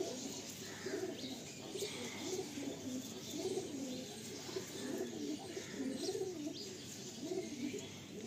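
Pigeons coo softly inside a full loft, overlapping low rolling calls with occasional chirps, fairly faint and continuous with no talking.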